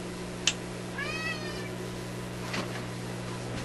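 A pet cat named Draper meows once, a clear rising-and-falling call in a quiet room with a steady low electrical hum beneath, followed by a faint soft shuffle.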